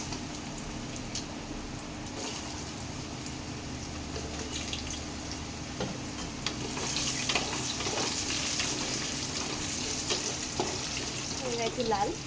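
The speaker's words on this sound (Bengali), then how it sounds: "আলুগুলো লাল লাল করে ভেজে নেবো।" Cut potatoes sizzle and fry in a pan with goat fat, a steady crackling hiss with occasional stirring scrapes that grows somewhat louder toward the end.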